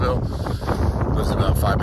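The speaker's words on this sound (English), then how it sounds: "It is windy, though" Steady wind gusting and buffeting a microphone at a marina, a continuous low rumble with rustling noise, loud and close throughout.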